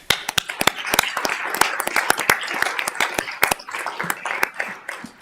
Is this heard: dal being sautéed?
no